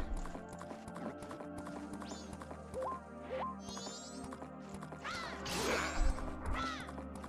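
Horse hooves clip-clop at a gallop in Majora's Mask, a steady rhythmic patter under layered game music and effects, with a brief neigh-like sound near the end.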